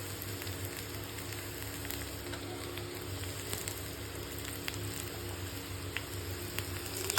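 Finely chopped garlic frying in oil for tomato pachadi gives a soft, steady, continuous sizzle with faint crackles, heard alone without talk.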